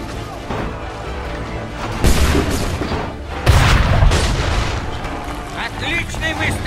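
Cannons fire in Assassin's Creed III Remastered, two heavy booms landing a second or so apart amid a battle din, with voices in the background.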